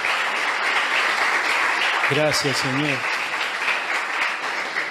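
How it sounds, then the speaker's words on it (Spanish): A church congregation applauds in steady, continuous clapping that fills the whole stretch, with a voice briefly speaking over it partway through. "Dale un aplauso al Señor, aleluya."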